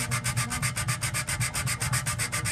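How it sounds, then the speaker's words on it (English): Wet-dry sandpaper wrapped around the end of a small piece of wood rubs back and forth over acrylic in a steady, quick rhythm of about eight gritty strokes per second, close and even, with no talking. "I've got the sandpaper around the end of it, and I'm just gonna work on trying to sand this down"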